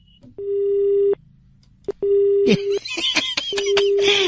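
A telephone line gives a busy tone after a call is hung up: steady beeps that cut on and off, loud and near, with a voice and laughter breaking in over the later beeps.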